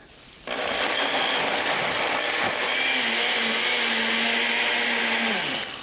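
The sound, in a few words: blender pureeing pesto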